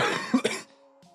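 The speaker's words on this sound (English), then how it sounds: "cough." A single close, sharp cough from a man, two quick bursts ending in a brief throat-clearing rasp, then near silence.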